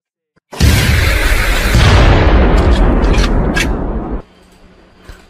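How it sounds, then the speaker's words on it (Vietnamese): A heavy booming blast of distant artillery fire rumbles and roars for several seconds, deep and broad, then drops abruptly to quiet background. "tiếng pháo nổ từ xa rất xa vọng lại"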